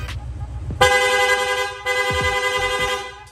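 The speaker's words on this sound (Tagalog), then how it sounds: "Long press lang po natin yung horn switch, yung busina natin. Magsusunod-sunod na po yan." A Honda Click v3 scooter's horn blares loud and close in rapid repeated honks, an insistent rhythm of buzzy toots running almost continuously.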